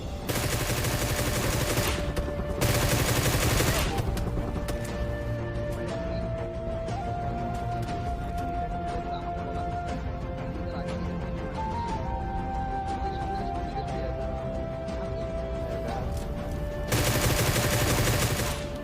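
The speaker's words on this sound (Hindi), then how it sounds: "आखिर में ये बंदा फायर करके खुद ही अपनी पोजीशन रिवील करता है।" In a shooting video game set in a school building, an enemy fires: loud bursts of rapid gunfire come at the start and at the end, with a steady hum of game sound in between.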